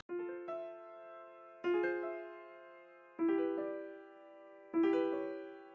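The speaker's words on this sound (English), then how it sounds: "All right, so I started with just the chords. We have this little piano thing going." Four piano chords struck one after another at an even pace, each ringing out and fading before the next, clear and close with no other sounds.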